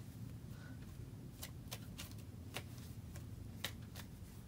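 Angel advice cards being shuffled, a faint series of quick riffling flicks and soft snaps in a quiet room over a low background hum, without any speech.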